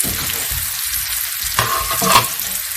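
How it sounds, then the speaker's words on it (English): Cooked potatoes frying with onion in a pan, giving a steady close sizzle with light stirring scrapes and a brief louder clatter near the end, with no talk. "Now add cooked potatoes to the onion"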